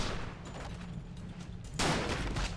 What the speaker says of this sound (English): here come more enemies, so I guess I can test out the sniper rifle now